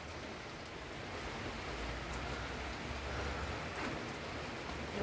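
Light rain falls in a soft, even patter across the whole span, faint and steady with no voices present.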